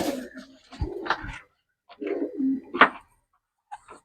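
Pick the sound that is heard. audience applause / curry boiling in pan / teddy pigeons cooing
teddy pigeons cooing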